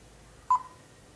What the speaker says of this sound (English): After the beep sound, as the green light turns on,